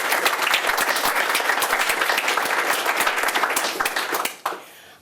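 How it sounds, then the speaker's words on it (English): An audience at a modern history prize giving ceremony applauds with a burst of dense, steady clapping that holds for about four seconds, then quickly thins out and fades. "But let's give her a round of applause."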